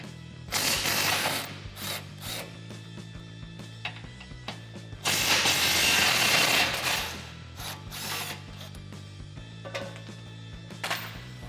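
Ratchet clicking in bursts while loosening skid plate bolts under a Jeep Gladiator JT, with short pauses between runs of rapid pawl clicks, close and fairly loud.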